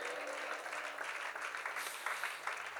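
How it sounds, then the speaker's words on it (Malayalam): A congregation at a church prayer meeting claps together in a steady, continuous burst, moderately loud and dense throughout the short stretch. "കൈയടിച്ച് ദൈവത്തിന് രാമയും പറഞ്ഞോ"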